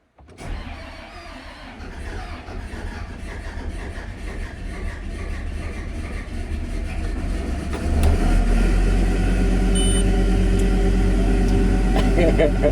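A diesel combine harvester engine cranks and catches, its low rumble building steadily and then settling into a loud, steady idle near the listener, with voices talking over it.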